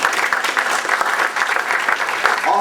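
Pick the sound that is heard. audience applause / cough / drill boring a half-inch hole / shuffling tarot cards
audience applause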